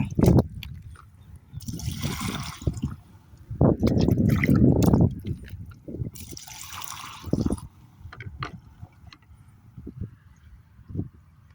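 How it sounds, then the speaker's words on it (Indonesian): Liquid chili plant supplement splashes and trickles into a sprayer tank in irregular gurgling pours and drips, moderately close, with handling knocks between the flows. "ini sudah saya masukkan ya ke dalam tangki spuyer"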